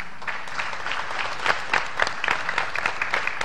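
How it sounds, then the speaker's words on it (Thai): An audience applauds after a judges' decision is announced at a competition. The clapping is steady and sustained throughout, a dense wash with a few louder individual claps standing out. "ขอเสียงปรบมือให้กับพวกคุณทุกคนอีกครั้งหนึ่งนะครับ"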